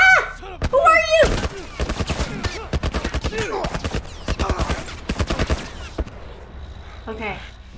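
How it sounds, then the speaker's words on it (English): Rapid bursts of video game gunfire from The Last of Us Remastered, with volleys of shots cracking in quick succession over several seconds and a voice speaking briefly between them. "it's so annoying to listen to the shooting in my ears"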